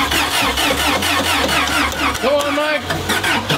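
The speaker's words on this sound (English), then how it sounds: "Cold start." A Lamborghini project car is cold started: the engine cranks and catches, then rumbles and revs loudly close by, with people talking over it.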